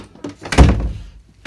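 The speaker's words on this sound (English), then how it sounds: "Let me go ahead and close this door." A sliding door is pulled shut indoors, with a soft rolling slide followed by a firm thud near the middle and a small knock at the end, close and fairly loud.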